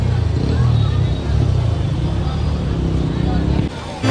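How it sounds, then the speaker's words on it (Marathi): A jammed street in Tulsibaug market, Pune, fills with the low rumble of idling vehicles and a dense crowd's babble, with people talking nearby throughout. "फुल ट्रॅफिक जाम नुसती गर्दी नुसती गर्दी"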